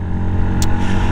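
A Yamaha MT motorcycle engine drones steadily while the bike is ridden, a loud, constant low rumble with a brief hiss near the middle.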